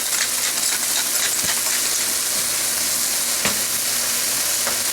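Food seasoned with pepper and salt sizzles in a hot pan, cooking toward translucent for sloppy joes, a steady loud frying hiss with a few light clinks.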